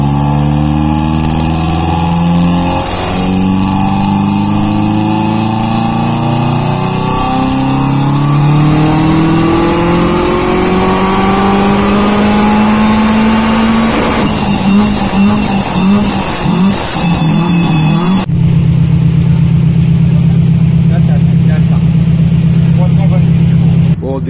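A Mercedes CLK on a dyno revs hard, its engine note climbing steadily through a long loud pull, then dropping and settling into a steady high drone; talk can be heard underneath.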